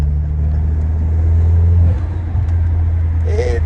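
Stage 2 tuned Peugeot 208 GT with a turbo pulling hard, a deep sustained engine roar under load that drops off near the end, heard close from inside the car.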